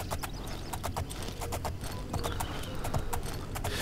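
Horse hooves clip-clop in a steady, quick rhythm in the video game Oblivion, close and continuous with an occasional faint whinny over a low background hum.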